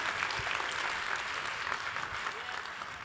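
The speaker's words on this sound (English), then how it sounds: "You can clap for that because that's what I'm encouraging you to do." An audience at an education lecture breaks into sustained applause, a dense wash of clapping hands filling the room from start to finish.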